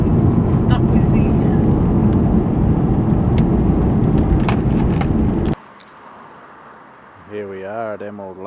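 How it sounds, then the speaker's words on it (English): A car drives along a straight, quiet road, a loud steady rumble of engine and road noise that cuts off abruptly partway through and is followed by a short tonal sound. "Driving on the wrong side of the road."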